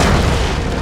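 A cartoon superhero's Thunder Thump power blast lands as a single loud, deep boom that hits at once and rumbles down over a second, close and with no voices over it.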